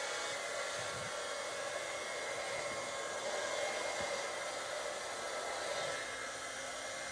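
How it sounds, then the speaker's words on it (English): A heat embossing tool blows and heats up in a steady, airy hairdryer-like whoosh that stays constant throughout, fairly quiet and alone. "let's grab the heat tool"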